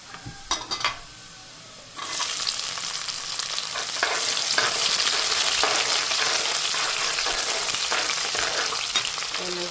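Chopped onion drops into hot oil in a pan for a fresh Gujarati magra vegetable dish, a few clatters first and then a loud, steady broadband sizzle and crackle that swells and holds to the end, with no talking.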